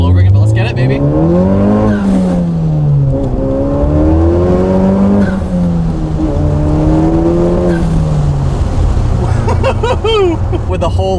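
A Honda Civic Type R running rolling anti-lag pulls hard through the gears, its engine note climbing loudly and steadily with brief dips at each shift, and sharp crackles and pops near the end.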